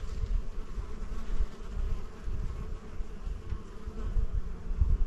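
Honeybees at an opened hive in early spring, a dense, continuous buzzing swarm close by, steady and loud throughout with no talking.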